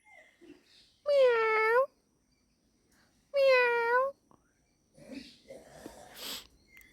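Two clear, drawn-out meows separated by a pause, most likely a human voice imitating a cat, followed by softer mumbling and a breathy, snort-like sound near the end.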